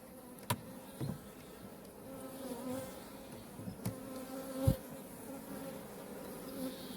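An open honeybee colony in an isolated forest apiary, worked without a smoker, hums with a steady, fairly faint buzzing drone, broken by several sharp clicks and knocks of frames and hive parts and a light wind.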